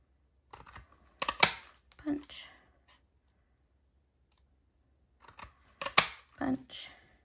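Cardstock cut with scissors for a harvest welcome card, two short bursts of crisp snipping and clicking separated by a quiet gap, near and close to the listener.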